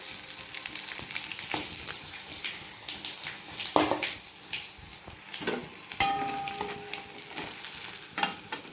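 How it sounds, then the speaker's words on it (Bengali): Chili and nigella seeds crackling in hot oil for a Bengali home-cooked dish, a close, busy sizzle with sharp pops and spatters and occasional louder bursts, continuing alone without talk. "তো আমি লঙ্কাটা ফোড়ন দিয়ে দিই,"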